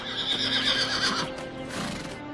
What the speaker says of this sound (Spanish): Un caballo solo digno de un rey.